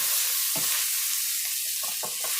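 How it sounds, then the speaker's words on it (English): Homemade vegetable and sausage soup sizzles loudly in the pot while a spoon stirs it up close, with several scraping strokes over the continuous hiss and no talking. "Stir that up."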